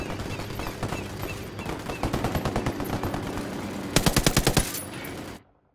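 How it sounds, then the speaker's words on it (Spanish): Rapid bursts of automatic gunfire in the Ghost Recon Wildlands video game, two distinct strings of sharp repeated shots close and loud over a background of game ambience, ending abruptly. "Disparando al enemigo. Francotirador."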